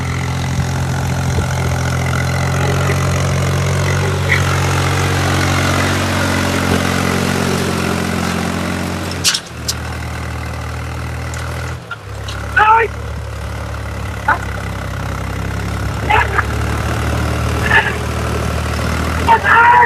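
A tractor engine idles with a steady low rumble that drops out briefly partway through and then resumes, while voices talk over it.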